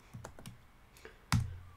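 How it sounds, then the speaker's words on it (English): Several light keystrokes on a computer keyboard, scattered taps followed by one sharper, louder clack, close and alone in a quiet room. "You guys can probably hear me typing."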